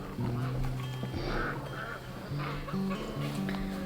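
Several geese honk and quack nearby in overlapping calls, with faint voices murmuring underneath.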